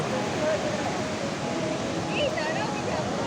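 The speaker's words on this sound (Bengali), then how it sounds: "সমুদ্রের যা আওয়াজ হচ্ছে কিছু শোনাও যাবে না" Sea waves roll onto a beach in dim early light, a loud, unbroken roar that fills the whole stretch with no pauses.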